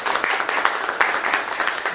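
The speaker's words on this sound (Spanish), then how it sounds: "Pero un aplauso para el compañero" An audience at a political party talk applauds a fellow member, a crowd's clapping heard as a busy, moderately loud patter of individual claps with scattered sharper hits, no speech over it.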